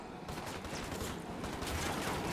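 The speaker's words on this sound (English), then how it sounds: "Opening fire on these fuckers." Sustained gunfire from a firefight in the tactical shooter Ghost Recon Wildlands, a dense, continuous burst of automatic shots that stays loud and close for the whole stretch.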